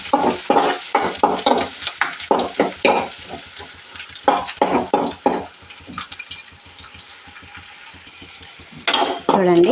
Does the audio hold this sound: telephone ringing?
no